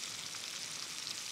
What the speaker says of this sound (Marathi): जिरे, त्यामध्ये लसूणीची पेस्ट, हे छान परतून घ्यायचं.